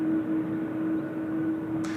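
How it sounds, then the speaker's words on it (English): A Jin Air Boeing 777 idles at Seoul Incheon Airport, a steady distant jet engine drone with a sustained tonal whine, constant and unbroken, with a brief hiss near the end. "Lovely idle sounds out of the Jin Air 777 there"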